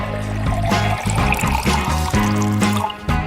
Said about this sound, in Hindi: अब हमें तरबूज का जूस एक बोतल में डालना है।